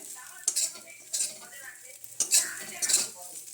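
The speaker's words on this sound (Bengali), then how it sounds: "নিম পাতা আর আলু ভেজে রেখেছে এই যে ভাজছে" Neem leaves and potatoes fry in a pan under a low sizzle, broken by four bursts of a metal spatula scraping and clinking against the pan.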